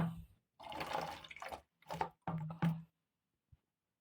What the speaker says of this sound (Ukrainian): І доливаю чистою водою.